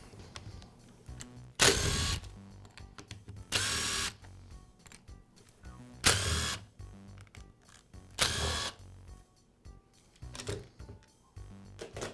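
Half of the rear handle housing comes off a Makita polisher, giving sharp bursts of clicks and clatter from a drill or screwdriver and plastic parts. Four or five loud separate bursts stand over quiet handling noise, with no talk.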